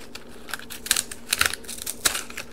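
Scissors snip through material while an Easter basket is being made, giving a quick series of close, crisp clicks and cuts in an uneven rhythm.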